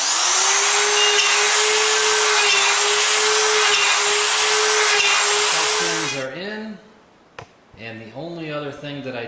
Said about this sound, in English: I like to use a plunge router to put my holes in for the shelf pins.